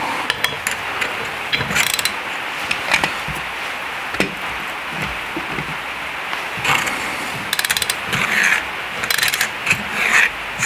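A torque wrench ratchets while a car wheel is tightened, a close, continuous clicking and grinding with bursts of quicker ratchet clicks throughout.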